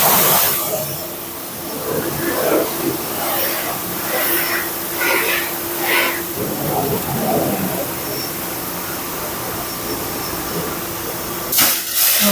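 A pressure washer sprays foam onto a motorcycle at a car wash in Taiwan, a steady hissing spray under scattered talk, with a brief louder burst of spray near the end.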